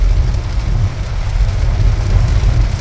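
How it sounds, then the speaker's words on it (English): Heavy rain pouring down around a vehicle driving through a small town, a dense, steady roar of falling water with low rumbling underneath and no voices. "we came back and it's raining crazy again"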